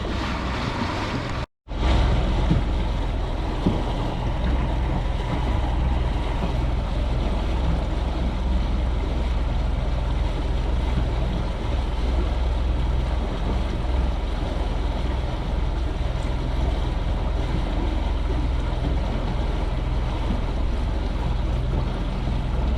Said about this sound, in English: You hear the thumping of the water against the front of the boat.